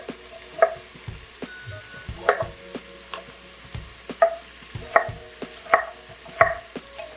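A knife chops through a small squash on a cutting board in a kitchen, giving about eight sharp, close thuds at an uneven rhythm with quiet gaps between them.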